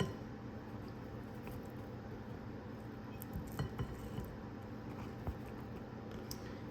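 A spatula or spoon pushes potato mixture down into a container, giving soft scraping and a few light clinks against the dish, faint and sporadic under a low steady background.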